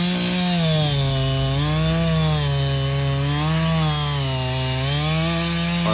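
A chainsaw cuts into a poplar tree outdoors, its loud, close engine holding a high whine that dips and rises as the chain bites through the wood, continuous with no talking.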